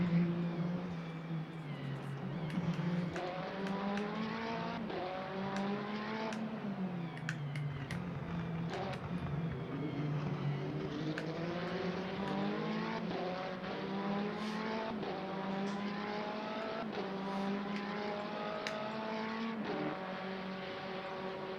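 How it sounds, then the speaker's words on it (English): Race cars in the game Le Mans Ultimate at the Portimao circuit, engines droning and climbing through gear shifts in repeated rising sweeps, steady and moderately quiet, with other cars closing in from behind and no talk. "Here comes cars up behind me."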